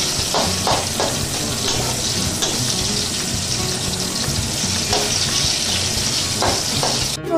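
Onion and garlic frying in oil in a home kitchen pan, a steady close sizzle with occasional stirring scrapes, running alone without talk.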